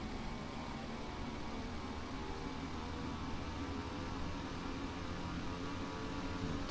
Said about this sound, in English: So a little bit more throttle here.